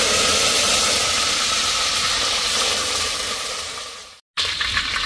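A mixer grinder grinds curry masala into a fine paste for crab curry, a loud steady whirring roar that runs unbroken, cuts off abruptly for a moment near the end, then starts again.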